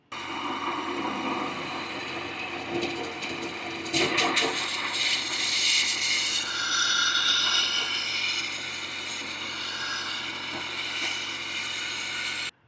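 An RV galley sink faucet blown out with compressed air during winterizing of a 2024 Storyteller Overland Class B camper: a steady rushing hiss that turns to sputtering, gurgling bursts of air and water midway, close and loud, with no talk.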